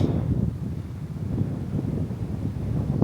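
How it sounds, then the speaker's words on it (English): Strong wind on open heathland buffets the microphone in a continuous low rumble and roar, gusting unevenly for a few seconds with no voices. "Ooh, strong wind here too."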